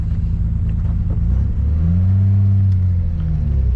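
Low engine rumble from a vintage Nissan as it pulls away and drives, a steady close drone that swells slightly midway, with no talk.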